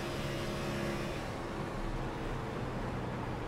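A fixed-setup Xfinity race car engine drones at throttle in the iRacing sim at Michigan, a steady, even roar holding constant for a few seconds with no voices.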